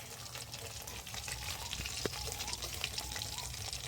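Pabda fish frying in a pan in a home kitchen, a dense steady sizzle and crackle with small pops scattered throughout, moderately loud and heard alone.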